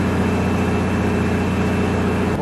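A van engine running steadily with its exhaust valve open, a constant low droning rumble with a strong throb, loud and close, with no talking.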